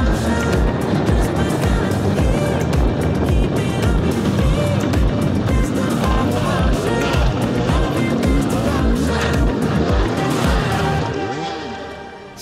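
Off-road enduro motorcycles race through a JNCC cross-country course with rock and woods sections. Their engines roar loud and continuously, with a steady pulsing throb and revving that carries on without a break.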